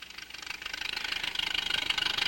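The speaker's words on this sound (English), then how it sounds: "We got a nice idle down at the bottom. It's going to stabilize at about, looks like about 750 RPM." An aircraft engine with a Posa carburetor idles at about 750 RPM, a steady, fast pulsing rattle heard nearby and fairly quiet, with no talking.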